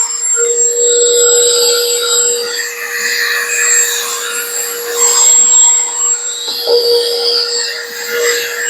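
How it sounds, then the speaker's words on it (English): A vacuum cleaner whines loudly and steadily up close while cleaning out an xTool F1 filtration unit, its pitch wavering slightly as the nozzle moves around. "So let's get the vacuum in there first."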